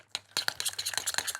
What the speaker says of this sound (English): we'll just give that a good mix